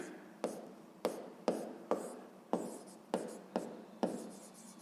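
Handwriting in a sixth-grade maths exercise makes a quiet, close scratching of pen on paper, with regular strokes about twice a second, each starting with a small tap and then trailing off.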